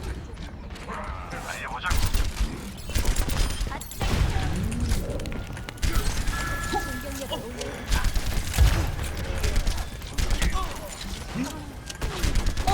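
Ashe's lever-action rifle fire in Overwatch, sharp shots and mechanical clacks scattered through a busy match soundscape, with players chatting over it.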